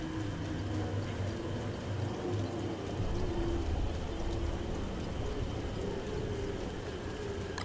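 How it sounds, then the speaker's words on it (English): Steady rain pours down in the Don't Starve video game, a constant even hiss with faint low rumbles beneath, lasting several seconds with no voices. "And it's raining."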